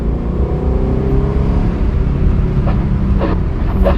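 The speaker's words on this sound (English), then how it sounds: "let's get an easy sound clip with the stock exhaust" A Mustang Shelby GT500 V8 on its stock exhaust rumbles steadily at idle after a cold start, a deep continuous exhaust drone with a few brief higher blips near the end.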